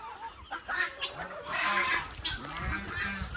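Geese on a farm honk in loud, overlapping calls while chickens cluck nearby, producing a busy, uneven chorus of nasal blasts and clucks without any talking.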